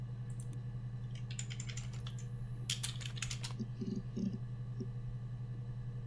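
Computer keyboard typing during a live mystery game session, soft clustered keystroke bursts mid-clip over a steady low electrical hum, fairly faint and without speech.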